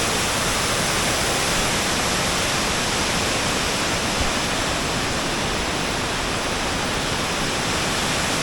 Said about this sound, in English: that is quite a spectacular waterfall